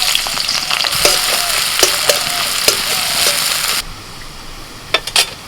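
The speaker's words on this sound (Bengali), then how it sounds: "লঙ্কাটা ভাজা হলে দিয়ে দিচ্ছি পেঁয়াজ কুচি" Chopped onion and dried red chilli fry in hot oil with a loud, dense, continuous sizzle and occasional stirring clicks, then the hiss drops suddenly near the end, with no talk.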